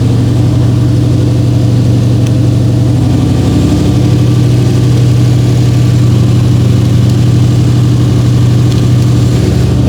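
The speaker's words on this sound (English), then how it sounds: "The Lexus is running. It even stays running if you disconnect it." A Lexus V8 car engine idles steadily after a jump start from a portable power station, a loud, constant low rumble close by with no speech.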